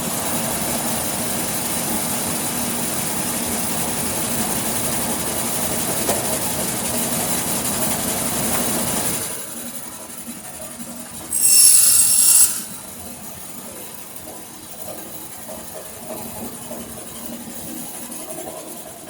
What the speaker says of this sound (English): cut a scrap of it on the bandsaw